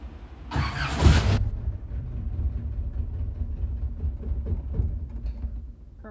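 A Datsun 521 pickup truck engine catches in a loud burst of cranking and firing, then settles into a quieter, slightly uneven idle close by, its carburetor plainly out of tune.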